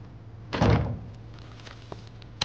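A door in an indoor drama scene swings open with a short muffled thunk and rustle, followed by faint footsteps and small knocks in a quiet room.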